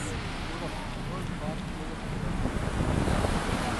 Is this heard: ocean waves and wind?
yes